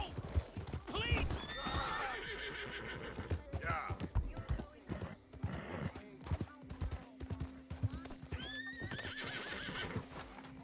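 Horse neighing and clip-clopping hooves in the Red Dead Redemption 2 video game, with several whinnies rising over steady galloping footfalls, while people talk over the game sounds throughout.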